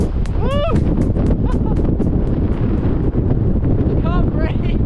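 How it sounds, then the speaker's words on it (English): Strong wind roars and buffets the microphone continuously, with gulls crying overhead and a few bursts of speech mixed in. "It's unbelievably windy."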